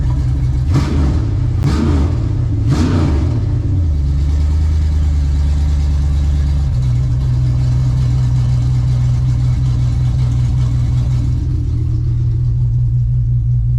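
An LS-swapped OBS pickup truck with a 4L60 transmission revs three times in quick sharp blips, then settles into a loud, steady, rumbling idle that drops slightly in pitch, recorded close in a driveway.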